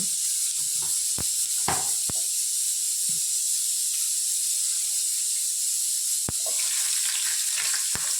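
Mustard seeds, urad dal, chana dal and cumin sizzle in hot oil with a constant bright hiss, punctuated by occasional sharp pops and crackles from the seeds.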